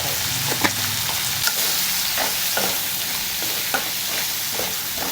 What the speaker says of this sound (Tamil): எண்ணெயில் வதங்கும். கார மிளகாத்தூள் அது மட்டும் போட்டுக்கலாம்.